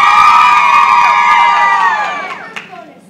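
A crowd of young voices cheers and whoops loudly at a school stage production, then the roar gradually fades over about three seconds.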